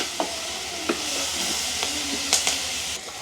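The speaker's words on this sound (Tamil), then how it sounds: "கருவாடு பார்த்திங்கன்னா அப்படியே எங்களுக்கு பொரிஞ்ச மாதிரி வந்துட்டுது" Dried fish frying in hot oil, a continuous close sizzle and hiss with occasional stirring scrapes and soft pops, no talking.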